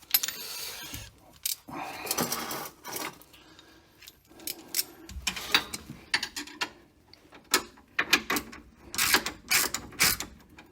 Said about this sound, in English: I've lost my 18mm. There it is. Combination wrench.